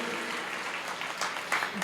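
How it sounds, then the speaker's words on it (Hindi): Audience applause at a Hindi kavi sammelan poetry gathering, a sustained patter of clapping with voices mixed in. "अगर आप वाकई सुन रहे हैं तो एक बार मुझे तालियां बजाकर आदेशित कर दीजिए"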